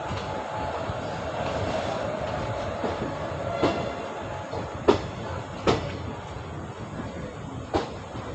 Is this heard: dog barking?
no